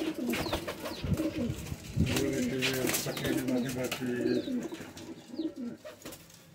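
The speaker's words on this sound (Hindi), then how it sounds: "राशिद भाई के पास ना कलपोटी कबूतर बहुत प्यारे हैं" Kalpoti pigeons in a loft coo heavily and repeatedly, close and fairly loud, their rolling throaty calls overlapping continuously and some human talk mixed in underneath.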